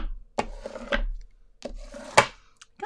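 Paper is rubbed down over a stencil in short, soft scratchy strokes, a few separate passes close to the microphone and quiet.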